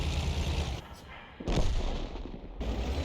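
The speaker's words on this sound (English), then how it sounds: "And enemy Arty's firing." Enemy artillery in a tank video game fires in heavy booming shots, with one loud blast in the middle under a constant engine rumble and a faint voice.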